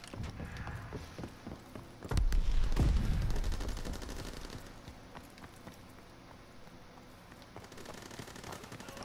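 Gunfire in a WW2 video game: rapid bursts of automatic fire, with a heavy loud blast of shots building early and then thinning into scattered, more distant firing that continues throughout.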